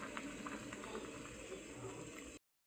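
Potatoes boil in a pot of water, a steady close bubbling and gurgling that runs continuously, with faint clinks now and then, before cutting off abruptly.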